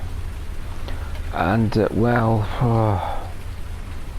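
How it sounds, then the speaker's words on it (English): Rain falls steadily in the video game Farming Simulator 19, a continuous hissing patter throughout, while someone talks over it in the middle. "it's just going to keep raining"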